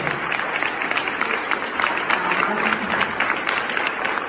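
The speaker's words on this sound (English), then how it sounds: "we need to give her another round of applause for the work that she's done" An audience at a benefit program gives a woman another round of applause for her work, steady, crisp clapping from a moderate crowd at middle distance, sustained without voices.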